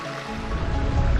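A creek rushes and burbles close by in a brief, loud burst of steady flowing water.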